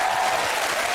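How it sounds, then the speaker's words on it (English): A studio audience on a British comedy quiz show claps for a guest, a steady, dense wash of applause filling the whole second with no talk over it. "give him a round of applause"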